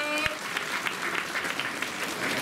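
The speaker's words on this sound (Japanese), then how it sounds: "みんな彼に拍手しようぜ。" An audience at a Turtle Talk live show breaks into sustained applause, a dense wash of clapping from many hands that stays steady throughout, with voices faintly mixed in.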